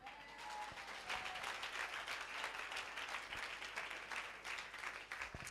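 Congregation at a church service applauding together, a dense, steady wash of many hands clapping at close range that carries evenly through the whole stretch without pause.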